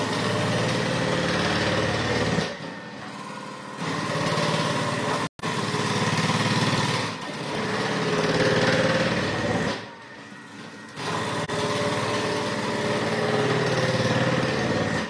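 A Thermomix food processor with its slicing attachment runs loudly while cutting carrots, a steady motor whine that drops in pitch and volume briefly at intervals as pieces are pushed through.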